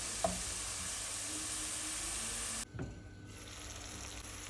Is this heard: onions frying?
yes